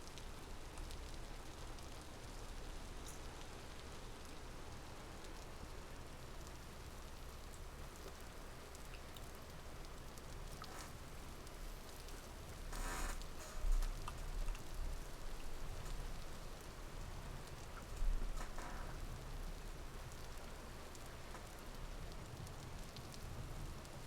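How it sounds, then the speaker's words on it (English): Steady rain falls in the survival game Vintage Story, a soft, even patter that holds throughout, with a couple of slightly louder swells partway through and no voices. "Oh, it's raining."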